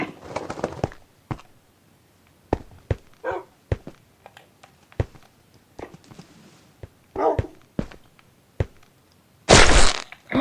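Scattered dog barks and yips mixed with sharp clicks and thumps, ending in a loud burst of noise.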